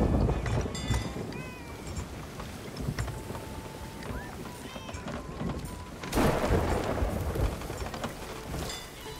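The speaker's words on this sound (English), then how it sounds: "It's raining, don't worry about it." Rain and thunder in a pirate video game at sea, a hissing downpour with low rumbling bursts and a louder crack near the end, mixed with creaks and game noises.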